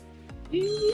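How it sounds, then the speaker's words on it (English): A phone ringtone begins to ring in a room, a bright tone rising and holding steadily after a brief low sound. "Sorry, I forgot to mute my phone"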